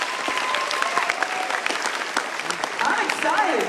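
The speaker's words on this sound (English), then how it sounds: "how about another round of applause for Matt?" An audience at a comedy show applauds a comedian, a loud, sustained round of clapping with occasional cheers and voices mixed in throughout.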